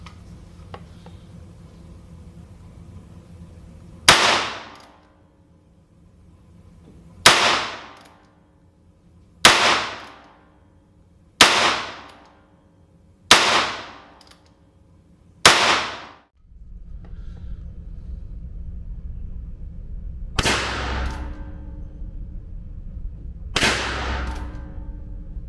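A Heritage Joker single-action revolver fires six loud, sharp shots outdoors, spaced a couple of seconds apart with a longer pause before the last two, each crack ringing out briefly over steady background noise.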